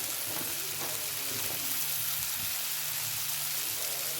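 Chili and coriander powder fry in hot oil for a dry fish curry, a continuous close sizzle with soft crackles and occasional stirring scrapes, no voices.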